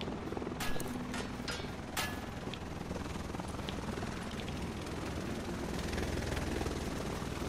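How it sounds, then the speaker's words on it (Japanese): A helicopter in The Division rumbles steadily from a distance, with a few sharp clicks and knocks over a dense low mechanical drone. "ヘリコプター来てるぞ。"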